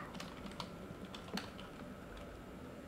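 Light, quick taps on a computer keyboard click softly and irregularly, with a few louder keystrokes standing out against quiet room noise.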